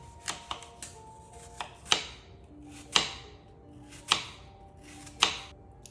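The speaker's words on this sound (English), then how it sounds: "Now we're gonna go ahead and thinly slice both the pears and the apples" A knife thinly slices pears and apples on a cutting board for an apple pear pie, giving about eight sharp, separate chops at an uneven pace, close and clear in a quiet kitchen.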